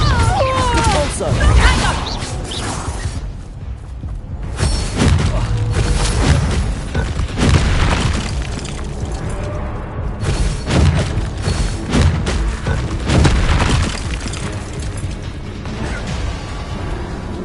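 A spell duel in Hogwarts Legacy fills with repeated Bombarda and Confringo explosions: loud booms, crashes and creaking mechanical clatter burst in irregular succession over a long, busy stretch, with shouted voices between them.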